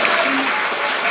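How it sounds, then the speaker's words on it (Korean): A crowd gives sustained applause for a professor after a lecture at a civic coalition's founding ceremony in Korea, a steady wash of overlapping claps with a faint voice briefly audible underneath. "우리 감동의 큰 박수를 한번 보내주셔야 됩니다"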